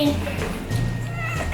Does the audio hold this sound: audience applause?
no